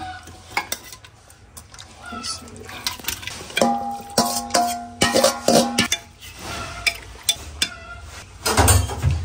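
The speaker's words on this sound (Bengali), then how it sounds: "প্রেশার কুকারে একটু কষিয়ে নেব" Buffalo meat being stirred in a pressure cooker, with clattering metal-on-metal scrapes and knocks of the spoon against the pot in irregular bursts, loud and close, no talk.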